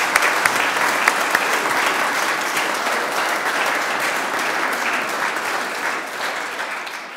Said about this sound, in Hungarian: kérem, tapsoljuk meg önket egy nagy tapssal.